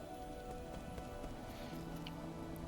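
Steady rain hissing across the scene in the game Nine Sols, a dense continuous wash of droplets with faint low tones underneath and no voices.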